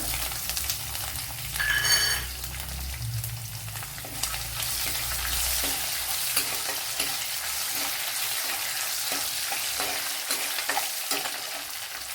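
Dried red chillies, garlic and crushed ginger frying in hot oil with mustard and fenugreek seeds for a Kerala fish podimas, a steady close sizzle with stirring scrapes throughout and a louder burst near the start.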